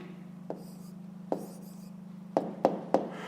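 Pen strokes on paper as an answer to a fifth-grade maths exercise is written by hand, a few short scratchy taps and strokes spaced apart over a steady low hum, close and quiet.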